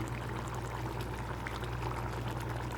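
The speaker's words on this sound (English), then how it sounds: "I am also adding a teaspoon of ghee" Ghee poured into a simmering chana masala gravy of white kabuli chickpeas on the stove, giving a soft, steady pouring and bubbling sound with a constant low hum beneath, close and moderate in level.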